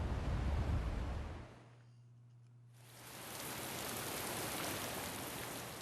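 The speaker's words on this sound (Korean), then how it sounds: "다음 날 갑자기 비가 내리기 시작하더니 강풍까지 불기 시작했다." Steady rain hiss with a gusty rush of wind, easing briefly to a low hum midway before the downpour and wind return, continuous and fairly loud.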